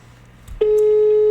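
A steady electronic telephone tone sounds after a short click, a single continuous note that fills the rest of the brief moment.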